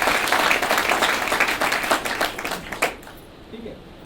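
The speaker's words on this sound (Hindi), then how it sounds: "एक जोरदार तालियां इन ब्रांड्स के लिए" Loud applause at a brand celebration event, dense clapping at close range that fades out near the end, with a voice briefly audible as it dies away.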